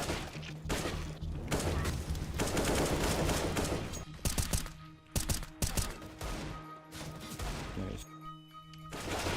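Rapid bursts of gunfire from the shooter game CS:GO, loud and dense, with sharp single shots and clattering volleys through most of the stretch.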